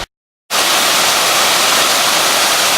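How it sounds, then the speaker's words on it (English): Small waterfall at Becky Falls on the Bartram Trail, a steady broadband rush of falling water that cuts in after half a second of silence and holds loud and constant to the end. "Beautiful little waterfall called Becky Falls."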